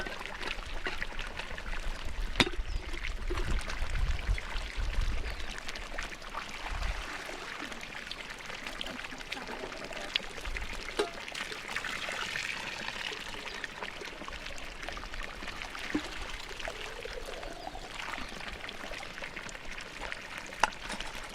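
Hot mineral water pours steadily at a village hot spring in Usha Village, a continuous close splashing rush with a few low thumps and no talk.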